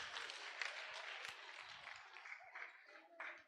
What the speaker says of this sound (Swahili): Hebu mpige makofi